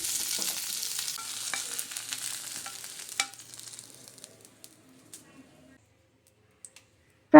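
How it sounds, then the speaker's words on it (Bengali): Kofta frying in hot oil in a pan, a loud, dense sizzle with scraping that thins and fades as the pieces are lifted out, leaving a few scattered clicks and near silence. "ততক্ষণে এদিকে আমার কফিটাও কিন্তু ভাজা হয়ে গেছে।"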